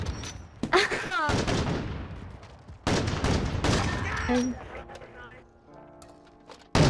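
AX50 sniper rifle fire in a video game comes as sharp, loud shots, several heavy cracks separated by pauses, mixed with in-game effects and overlapping voices.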